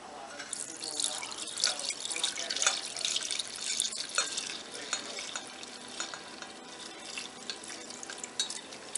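Saffron ice cream base poured through a strainer set in a chilled bowl over ice water, a steady liquid splashing and trickling with small drips for about nine seconds, close and moderately loud.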